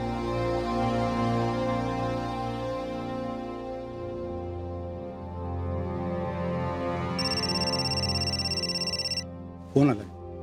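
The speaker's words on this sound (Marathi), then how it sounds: "फोन आलाय." A phone ringtone chimes with an electronic melodic tone in a household scene, sounding for a couple of seconds over background music before cutting off, followed by a short burst of rustling.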